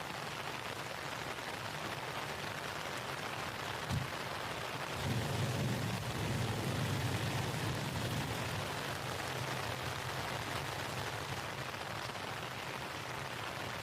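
Heavy rain falls steadily at a campsite during a thunderstorm, a constant wash of noise with a low rumble of thunder swelling partway through.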